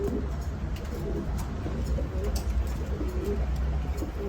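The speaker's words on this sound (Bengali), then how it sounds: "অনেক ভালো কোয়ালিটির কবুতর খুব সুন্দর" Red Lahori fancy pigeons coo softly in the background, low throaty calls recurring irregularly over a steady hum and room noise.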